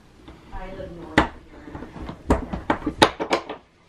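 Wooden thumps and rattles from a door being pushed and pulled at a farmhouse, several sharp knocks clustered near the end, close and moderately loud, with faint background voices.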